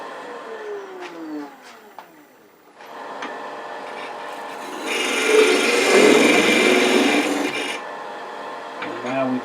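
Wood finial polished with abrasive paste on a lathe, a steady hiss of rubbing that swells louder midway and then fades, preceded by quieter spinning sounds.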